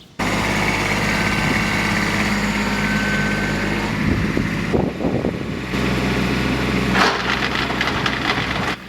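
A small gas-powered garden tiller runs steadily, a loud close engine drone with rough churning as it works the soil, the pitch shifting briefly mid-run, alone without talk.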